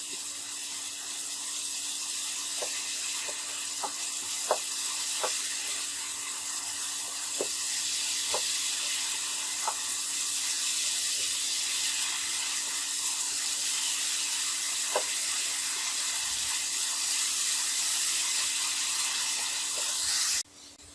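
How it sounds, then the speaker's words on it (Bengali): Spices frying with onion, garlic and ginger in a pan for a Bengali shing fish curry, giving a steady close hiss and sizzle with a few faint clicks of a spoon, no voices. "এখন পেঁয়াজ রসুন আদার সাথে মশলাগুলো একটু আমি কষিয়ে নেবো"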